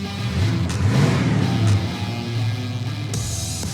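A 1967 Pontiac GTO V8 with its gearing upgraded runs steadily nearby, a deep, rumbling exhaust note with slight swells in revs and no talking.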